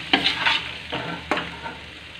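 Tomato pasta stir-fried in a kadhai over a high gas flame, with a steady sizzle broken by several loud scraping strokes of the spatula against the pan, close and with no talking.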